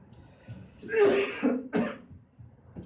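A few short, dry coughs from a preacher during a Korean church Sunday sermon, close to the microphone in a quiet hall, with faint room murmur between them.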